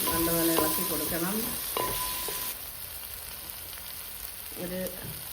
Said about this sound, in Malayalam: ഒന്ന് നല്ലപോലെ ഇളക്കി കൊടുക്കണം